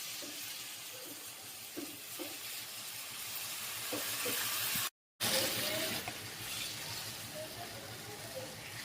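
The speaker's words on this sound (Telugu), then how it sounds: "ఇప్పుడు మనం మటన్ ఉడికేది నీళ్ళు పోసుకోవాలన్న" Water poured into a pan of fried mutton for a coconut curry, a soft watery sizzle and splashing with a few light clinks, fairly faint, broken by a brief gap midway.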